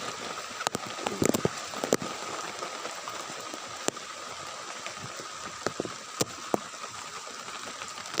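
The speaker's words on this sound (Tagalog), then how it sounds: "Lakas yung ulan." Heavy rain falls over a field as a steady, dense hiss, with scattered sharp drop impacts close by.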